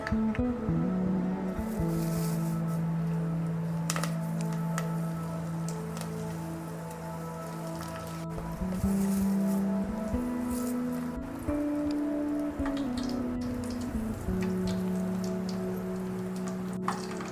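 Homemade hair oil heated in a pan with ingredients added, bubbling and crackling steadily like light rain for the whole stretch over a constant tonal background, with no talking.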